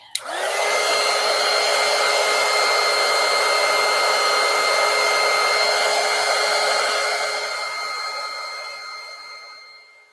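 A hair dryer blows on an oil-based colored pencil blender, switching on with a click into a loud, steady close whine that holds for several seconds before gradually winding down, with no talk.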